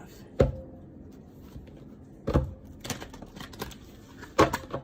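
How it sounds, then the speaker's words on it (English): Tarot cards being shuffled by hand in a quiet room, giving several soft riffling slaps and taps at uneven intervals, close and clear with no talking over them. "I'm shuffling and the sun card fell out"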